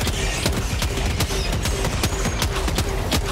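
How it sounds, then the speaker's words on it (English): Dense, continuous Helldivers 2 gunfire crackles throughout, with rapid overlapping shots and bursts over a steady din of battle, loud and close with no voices. "I guess we're just shooting out into the open."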